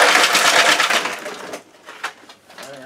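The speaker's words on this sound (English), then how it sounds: "Okay, dump the ice tray." Ice cubes tip from a tray into a Titan Deep Freeze 50-can cooler in a loud, crunching rattling burst, then a few scattered clinks as the last cubes settle.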